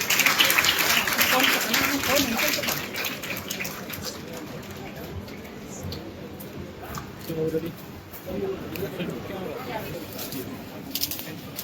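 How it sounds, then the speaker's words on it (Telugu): An audience at a speech by a politician claps in a dense, steady patter that is loudest at the start and then thins, with voices murmuring underneath. "క్లాప్స్"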